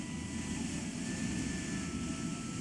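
Plane flying in the video game Voodoo Vince Remastered, a steady, droning engine hum with a broad low rumble that holds without change throughout.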